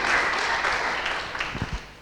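Brief applause from a church congregation, a broad wash of clapping that fades quickly, with a few louder low thumps near the end.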